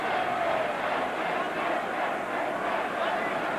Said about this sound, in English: Mike Vidmar getting a great chant from his fans in the crowd